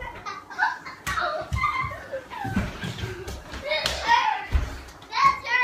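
Children playing dodgeball in a kitchen, balls thudding and bouncing off the floor and walls at an uneven pace amid shouting, laughter and chatter from kids and an adult.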